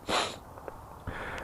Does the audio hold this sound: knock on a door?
no